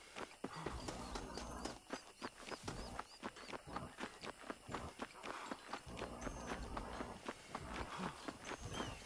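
Horse hooves clip-clop in a steady walking rhythm in the Red Dead Redemption video game, close and fairly loud, with no talk over them.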